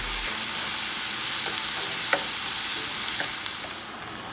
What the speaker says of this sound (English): I'm gonna let this saute for about 6 minutes